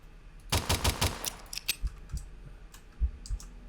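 Rapid bursts of gunfire from an unlimited-ammo weapon in the horror game Mimic Search, a quick volley of loud shots followed by scattered single cracks and clicks.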